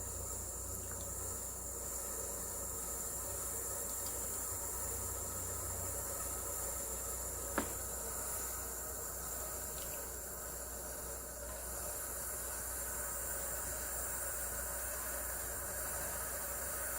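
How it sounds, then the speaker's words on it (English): Steam hissing steadily from the vent of a Mealthy pressure cooker while it cooks eggs, a continuous high, even hiss that holds for the whole stretch, with one brief sharp click partway through. "If you look closely, you can see the steam escaping the vent."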